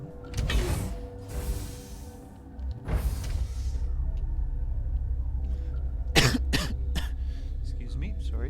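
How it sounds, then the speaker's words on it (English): A person coughs in several rough bursts, near and fairly loud, with a longer cough near the start, one in the middle and a quick cluster toward the end, over a low steady background hum. "Excuse me, sorry for coughing."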